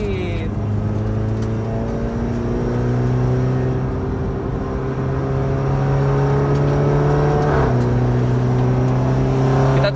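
A car lapping a racing circuit with an 8-speed transmission, its engine drone holding steady and close for the whole stretch, with a brief shift or dip near the end.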